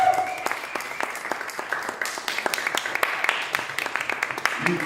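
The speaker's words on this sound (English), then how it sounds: "let's give him a little bit of applause" Audience applause at a jazz and beat poetry festival in Davis, a crowd clapping with dense, crisp claps, a few voices audible at the start and a brief cheer near the end.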